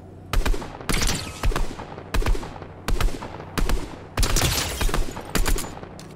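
Loud gunfire rings out in a Fortnite-style shooter as a series of about eight sharp bursts, some single shots and some quick clusters, spaced across a few seconds.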